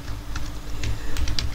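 Keystrokes on a computer keyboard while entering text in editing software, a quick irregular run of soft clicks, moderately close, with no talking.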